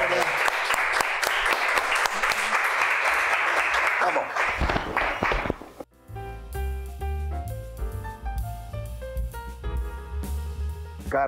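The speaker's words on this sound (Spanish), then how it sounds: "Un aplauso para ella." Audience applause at a live comedy-and-cooking show, loud dense clapping for about five seconds that cuts off abruptly and gives way to music.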